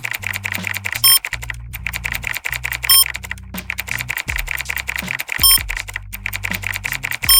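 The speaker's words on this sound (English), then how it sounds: "We're typing a lot of stuff." Rapid computer-keyboard typing sound effects play in the video game Tower Inc, a dense continuous clatter of keystrokes over a droning electronic game soundtrack, with periodic short chime-like tones and no voice.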